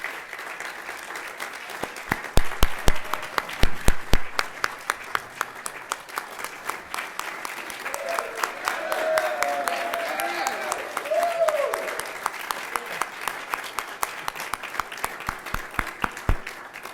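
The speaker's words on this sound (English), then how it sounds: "let's give him a round of applause." An audience at a voter protection event applauds Congressman Conyers: the clapping swells quickly into a loud burst of sharp, close handclaps, then settles into sustained, even applause that carries on throughout.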